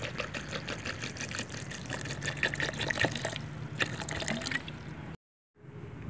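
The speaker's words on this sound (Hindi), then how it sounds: "अब हम इसमें पानी ऐड करेंगे," Water trickles and pours into falsa fruit in a juicer jar, a soft continuous liquid splash with small drips, fairly quiet and uninterrupted before a sudden cut to silence.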